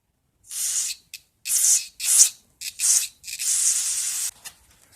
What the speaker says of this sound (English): Now I'm going to spray out this bottom bearing here.